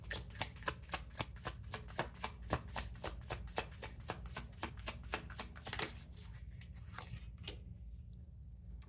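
Tarot cards are shuffled in a steady, rapid rhythm of close, crisp riffles for about six seconds, followed by a few softer card slaps and handling sounds as cards are drawn.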